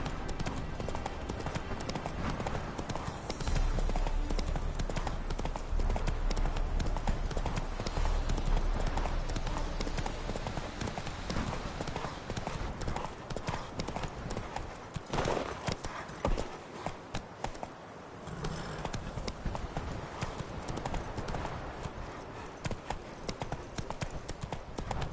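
Roach the horse in The Witcher 3 trots with a steady rhythmic clip-clop of hooves, close and continuous over ambient game sound, with a voice speaking briefly.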